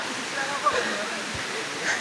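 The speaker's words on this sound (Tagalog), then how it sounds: "Kaya mayroong mga running water dito." Running water at a waterfall on an outdoor falls trip, a steady soft wash of flowing water throughout with faint broadband hiss and a few small bumps.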